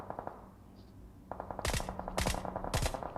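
Automatic weapon fire in the PUBG Mobile battle royale game: three loud, sharp bursts in quick succession, following a softer stretch of rapid distant shots.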